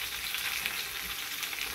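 Lamb chops fry in a pan with a continuous soft hiss and light spattering, fairly quiet and even throughout, with no one talking.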